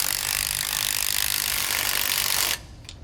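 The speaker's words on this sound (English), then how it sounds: "we're going to use a 9/16 socket to tighten it down" A 9/16 socket on a ratchet snugs down a sway bar bolt on a Roadmaster rear anti-sway bar fitted to a 2015 Thor ACE motorhome, giving a steady close mechanical clicking and rasping for about two and a half seconds before stopping abruptly.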